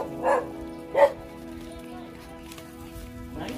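Dog at a Christmas gathering in Sindangan, giving two short, moderately loud bow-wow barks close by, over a steady background hum with faint voices around.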